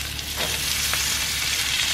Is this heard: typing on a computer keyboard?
no